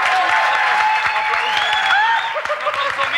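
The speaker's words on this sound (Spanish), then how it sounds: "¡Un aplauso!" A crowd applauds with steady clapping while a voice calls out over the noise.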